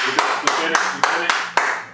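Six sharp, evenly spaced claps ring out over steady background chatter and music, like a slow, deliberate round of applause.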